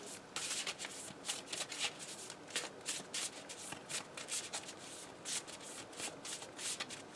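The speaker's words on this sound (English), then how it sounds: "we'll shuffle our discard pile to make our deck again" Trading cards from a discard pile shuffled by hand during a Transformers TCG game, a quiet run of quick papery riffles and rubs repeating steadily, close and soft, with no talk.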